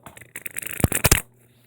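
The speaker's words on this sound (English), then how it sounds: "Okay, let's shuffle these puppies up." A tarot deck being shuffled by hand, a run of papery riffling and flicking that builds to several sharp, close card snaps before stopping.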